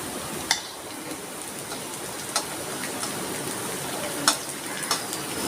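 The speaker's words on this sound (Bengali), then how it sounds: "পেঁয়াজটা আমি একটু লাল লাল করেই ভাজবো।" Onion, salt and garlic fry in a pan for a stuffed pointed gourd recipe, a steady dense sizzle with a few sharp clicks of a utensil stirring against the pan.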